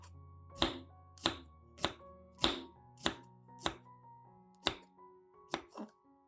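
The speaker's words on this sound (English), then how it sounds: "I slice about 10 grams of fresh ginger." A knife chops through fresh ginger on a cutting board, about ten crisp, evenly spaced cuts with no talking.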